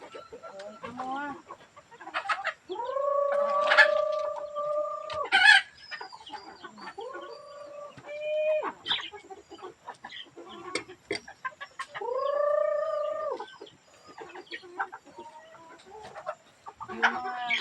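Chickens at feeding time cluck and squawk close by in repeated bursts, with drawn-out crowing-like calls and a voice occasionally speaking among them.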